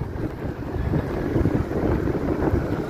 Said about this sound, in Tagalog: Hangin kayo.